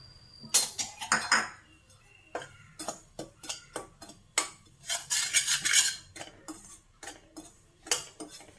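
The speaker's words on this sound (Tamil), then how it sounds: "நம்ம எடுத்து வச்சுருக்க மாவை இதுக்குள்ளே கொட்டி வறுத்து எடுத்துக்கலாம்" Rice flour roasting in a hot kadai for pachcharisi kozhukattai, stirred with a metal spoon that scrapes and clinks against the pan in irregular bursts, close and fairly quiet, with no talk.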